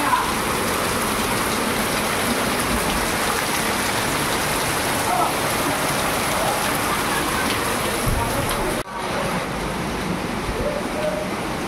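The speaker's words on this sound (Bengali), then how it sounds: "ভালো জোরে বৃষ্টি শুরু হয়ে গেছে।" Heavy rain pours down steadily and loudly as a dense, continuous hiss that barely changes, with a brief dip near the end and no speech.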